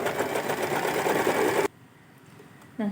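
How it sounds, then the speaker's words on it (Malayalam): A Usha Janome electric sewing machine runs a steady, loud, close whirring stitch for under two seconds, then stops; a short burst of running starts again at the end. "സീലേക്ക് ചേഞ്ച് ആക്കിയിട്ട് സ്റ്റിച്ച് ചെയ്തെടുക്കാം"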